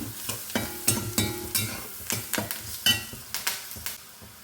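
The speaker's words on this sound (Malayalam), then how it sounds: "കുറച്ച് നേരം കൊണ്ട് ഇളക്കി" A spoon stirring beans roast masala with turmeric and curry leaves in a pan, a quick run of sharp scraping clinks over a light sizzle, close and alone.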